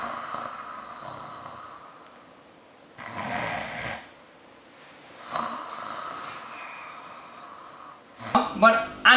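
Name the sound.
person snoring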